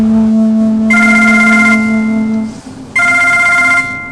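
A telephone rings loudly in two electronic bursts over a steady background hum, with a short gap between the rings.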